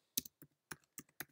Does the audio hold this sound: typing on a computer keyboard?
yes